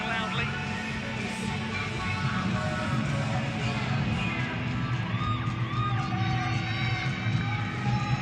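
A crowd cheers and whoops in an arena during a trampoline gymnastics competition, a steady roar of voices with scattered shouts and whistles rising through the passage.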